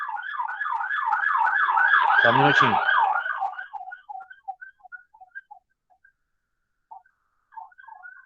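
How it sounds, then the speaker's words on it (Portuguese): A loud wailing siren rises and falls in rapid cycles, then breaks into fading fragments; a voice speaks briefly over it. "Tem que ser uma sirene alta."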